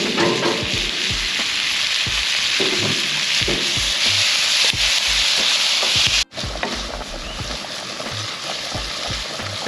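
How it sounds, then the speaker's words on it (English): Halloumi cooking in a pan outdoors with chorizo pasta ingredients, giving a loud, steady sizzle and spatter throughout, with stirring scrapes and knocks mixed in and a brief dropout near the end. "Everyone's favourite ingredient going in, the halloumi."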